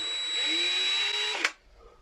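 A power drill whines steadily at high speed for over a second, then cuts off abruptly with a brief clatter; close and loud, with no talk over it.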